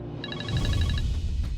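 A mobile phone rings with an incoming call: a quick run of bright, repeating electronic beeps lasting about a second over a low background hum, then fading out.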